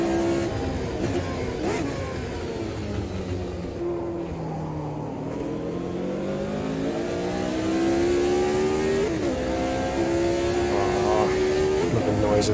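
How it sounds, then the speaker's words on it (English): Race car with DFE engines in Automobilista 2 revs and accelerates, the engine pitch rising and falling through gear changes, loud and close throughout with no talking. "DFE engines just sound so great"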